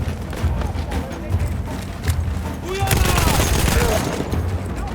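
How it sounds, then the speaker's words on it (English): Machine gun fire crackles in the Battlefield 1 video game, a continuous stream of shots amid battle noise, loud and mid-distance, growing heavier toward the end while a voice speaks over it. "Ooh, he's got a machine gun."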